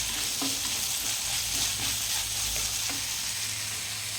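Small onions and chilies fry in coconut oil in a clay pot with mustard seeds, a steady close sizzle running throughout with a few soft stirring knocks.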